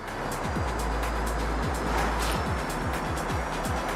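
Electric motor of a hydrogen-powered Hyundai Ioniq N in a racing video game, spinning with a steady synthetic whine and repeated low pitch sweeps as it speeds up and shifts, loud and continuous.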